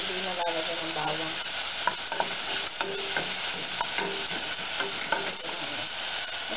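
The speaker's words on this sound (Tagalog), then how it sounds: "Dito ko lang yung white onion. Hanggang sa maging transparent." White onion sizzles steadily in a pan as it sautés, with a spoon stirring and scraping through it in close, continuous crackling and no voices.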